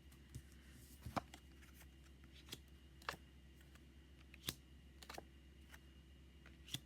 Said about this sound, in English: I'll do 2 more shuffles